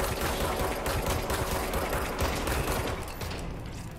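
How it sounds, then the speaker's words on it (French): Rapid enemy gunfire in the game Control, a dense continuous barrage of automatic shots that stays loud throughout. "Oh, putain, elle me tire dessus."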